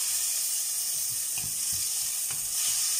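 Sausage and tomatoes frying in a pan while cabbage and sausage are being prepared, giving a steady close sizzle with a few soft stirring knocks and no talking.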